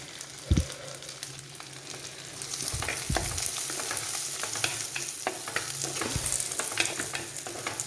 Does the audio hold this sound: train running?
no